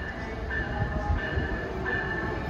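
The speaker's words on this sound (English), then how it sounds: "arriving on track one is train 141 from Amtrak" An Amtrak passenger train arriving at Trenton station rolls steadily past at close range, a low rumble of wheels with a faint high metallic squeal rising now and then.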